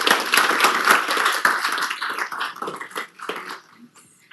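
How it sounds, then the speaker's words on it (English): An audience at a city council meeting applauds a high-school scholarship winner, a full round of dense clapping with a few sharp nearby claps, tapering off and fading out after about three and a half seconds. "And can we have a round of applause?"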